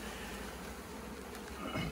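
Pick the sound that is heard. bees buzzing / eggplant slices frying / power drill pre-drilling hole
bees buzzing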